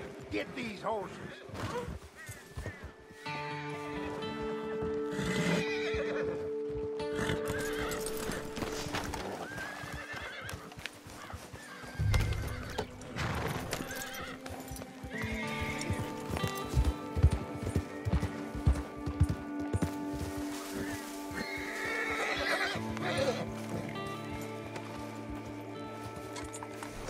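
Horses in the video game Red Dead Redemption 2, with whinnies and neighs over clip-clopping hooves, heard close alongside game ambience and intermittent speech.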